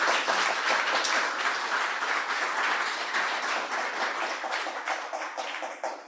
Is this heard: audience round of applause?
yes